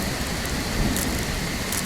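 Steady rain at night in the video game Bigfoot, a loud continuous hiss of falling drops with a low rumble underneath and no speech.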